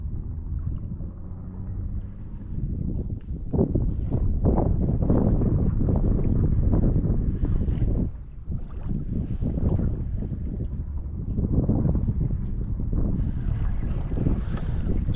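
Bass boats motor across a lake in a steady low drone, heavily buffeted by wind rumbling on the microphone, with louder gusts coming and going.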